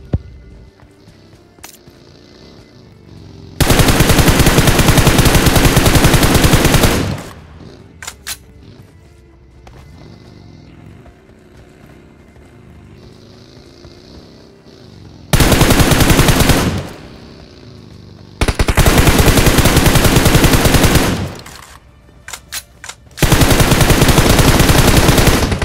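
Automatic gunfire in a battle royale video game, coming in several loud, sustained bursts of rapid shots separated by quieter gaps with faint single shots and footsteps, no talking.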